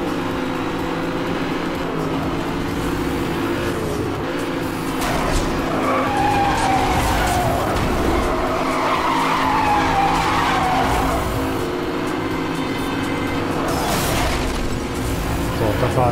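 Race cars in Need for Speed Hot Pursuit Remastered roar along with engines revving and tires skidding and squealing through corners, a continuous loud stream of engine noise with rising and falling pitch sweeps.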